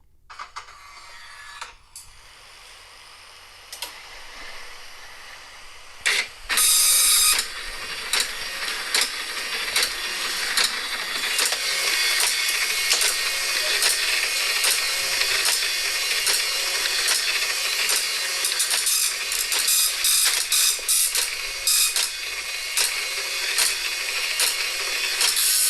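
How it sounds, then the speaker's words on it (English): A mechanical printer whirs and clatters steadily for a long stretch, with rapid ratcheting clicks and feed noises, loud and close, after a few quieter knocks. "A printer."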